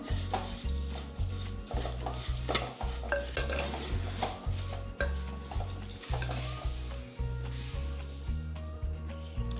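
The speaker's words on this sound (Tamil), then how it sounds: "இது கொஞ்சம் கிறிஸ்பி ஆகிற வரைக்கும் நம்ம வறுத்து எடுத்துடலாம்" Dry flattened rice flakes rustle and scrape steadily as they roast in a pan, with rhythmic stirring strokes and a soft sizzle throughout, no voices.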